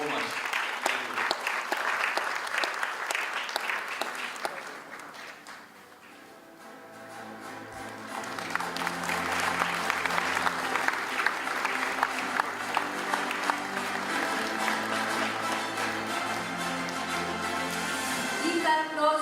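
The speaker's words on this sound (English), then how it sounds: "Keep that applause going, ladies and gentlemen" Sustained applause from an awards ceremony audience, dense and steady at first, dipping briefly, then swelling again with music playing underneath as the clapping continues.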